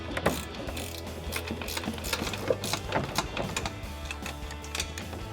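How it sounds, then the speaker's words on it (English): A 16mm ratcheting wrench clicks rapidly in short bursts while loosening front strut nuts on a 2019-2023 RAM 1500, its close metallic pawl ticking irregular with brief pauses between strokes. "I'm using a 16mm ratcheting wrench to remove these nuts."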